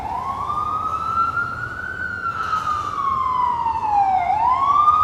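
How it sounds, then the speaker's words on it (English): A wailing siren rises and falls steadily over faint New York City road noise, fairly close, continuing throughout with no talking. "It's always sirens, huh?"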